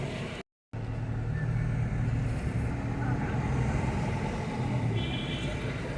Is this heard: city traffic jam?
yes